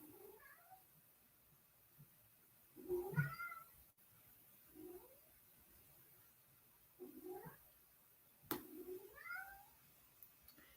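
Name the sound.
pet cat meowing, crying at the door to be let in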